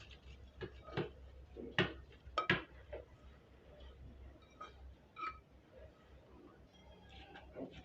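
Cooled onion oil is poured through a strainer, with scattered light metallic clinks and ticks of utensils against a bowl at an irregular pace over a quiet background.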